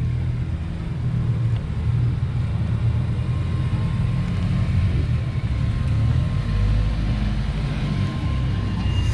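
A car pulls away from a Honda car meet, a steady low engine rumble and road noise that holds for several seconds close by.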